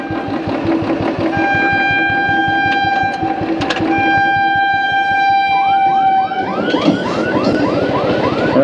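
A Lalgola–Sealdah local passenger train rumbles past a level crossing at Bhabta, Beldanga, with a steady, rhythmic clatter of wheels, while sustained horn tones sound and then bend downward near the end.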